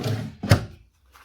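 A bedside drawer slides and bumps shut with one short wooden thunk, close by and followed by near silence.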